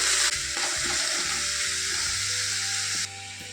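Sliced potatoes for chow mein sizzle and fry in a hot pan, a steady, loud, close hiss that carries on without a break before easing down near the end.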